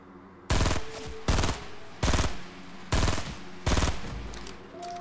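Gunfire in the Fortnite Battle Royale video game: five loud, sharp bursts of shooting spaced roughly evenly over a few seconds, each followed by a short ringing tail, with no talking.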